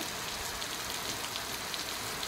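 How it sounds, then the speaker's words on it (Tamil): Heavy rain pouring steadily in Thanjavur, Tamil Nadu, a dense, even hiss of drops drumming on surfaces that continues without a break and with no voices. "தஞ்சாவூர் மாவட்டத்தில் பெய்திருக்கக்கூடிய மழை"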